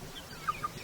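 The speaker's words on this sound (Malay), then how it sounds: "Itu ada ayam ah." A chicken, likely at a cockfighting gathering, gives two short, faint clucks close together over soft background noise.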